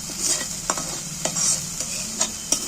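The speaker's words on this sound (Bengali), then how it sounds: "এটাকে এবার আমি একটু ভালো করে কষিয়ে নিই" Spice masala for a vegetarian long bean dish is sautéed in a pan: a constant oily sizzle close by, with a spatula scraping and stirring in short, regular strokes.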